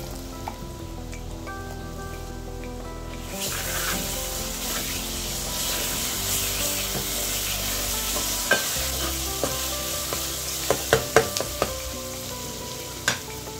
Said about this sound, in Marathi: आता कांदा थोडा फ्राय झालेला आहे। आता आपण वाटून घेतलेला मसाला टाकू।